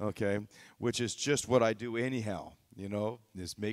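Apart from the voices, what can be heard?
None of the usual background noises is heard.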